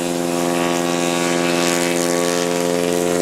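STOL light aircraft at a National STOL Finals competition powering up for a short takeoff, its propeller engine droning loud and steady with a strong harmonic hum throughout, no voices.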